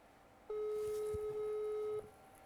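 A phone call rings out with a single steady electronic tone held for about a second and a half, fairly clear above a faint background hiss, with no talk during it.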